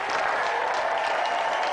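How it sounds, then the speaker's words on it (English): A television game-show studio audience claps in a sustained round of applause, dense and steady for the full stretch, with no voices over it. "Round of applause for Angela."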